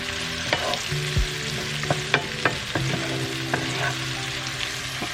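Peppers sautéing with garlic and onion powder in a pan give a constant sizzle, broken by repeated clicks and scrapes of a utensil stirring nearby. No voices.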